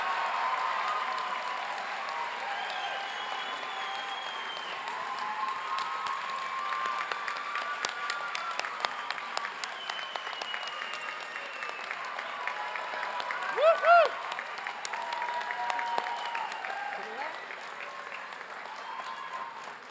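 A commencement audience breaks into sustained applause for new graduates at a college ceremony, a steady wash of many hands clapping through the whole stretch, with a few brief louder whoops and some murmured voices in the crowd.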